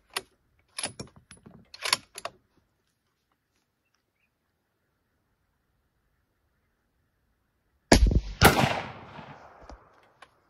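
A single loud rifle shot cracks close by and trails off with a decaying echo, after a few earlier sharp mechanical clicks and a long silence.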